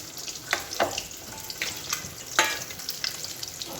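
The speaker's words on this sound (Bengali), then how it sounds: "3 পিস ভাজা হচ্ছে।" Fish pieces fry in hot oil with a steady crackling sizzle, punctuated by several sharper pops and spatters, close and continuous with no talking.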